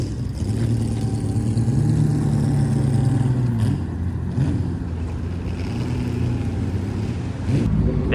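Pagani Huayra BC supercar driving past on a town street, an engine hum that rises and falls through a couple of shifts, moderately loud and passing by, with no talk over it.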